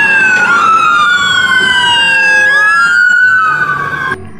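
A toy ambulance wails with a loud electronic siren, its pitch sweeping up and down in repeated cycles close by, then cutting off abruptly near the end.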